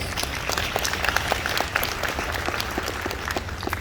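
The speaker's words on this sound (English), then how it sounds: "Give them a round of applause." Steady applause from a crowd fills the space, many hands clapping continuously at an even, moderate loudness.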